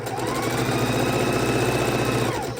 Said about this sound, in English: this time we're sewing from the bottom to the top of the quilt on the last corner